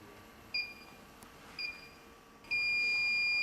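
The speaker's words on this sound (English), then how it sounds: "Turn on the electronic leakage detector and calibrate." An electronic refrigerant leak detector gives two short, faint beeps, then switches to a steady, louder high-pitched tone. A quiet background hiss sits underneath.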